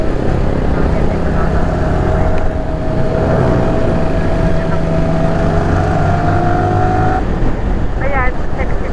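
Steady engine and road noise of traffic crawling on a highway near Tanauan City, Batangas, heard continuously from inside a vehicle, with a passing horn or tone and people chatting over it.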